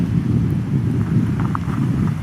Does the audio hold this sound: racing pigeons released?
no